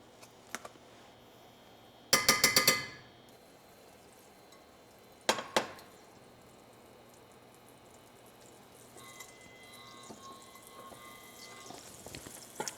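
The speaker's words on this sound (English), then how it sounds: "I'm gonna saute quickly in vegan butter our baby oyster mushrooms and some peas" Baby oyster mushrooms and peas are sautéed in vegan butter in a pan. Metallic clinks of a utensil come in a quick cluster, then a couple more, while a soft sizzle builds toward the end.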